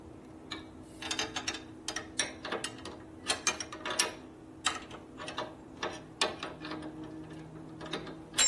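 A ratchet tightens a bolt on a Harley panhead FL/FLH motorcycle, rapid clicking bursts repeating in short strokes, close and crisp with a faint steady hum beneath.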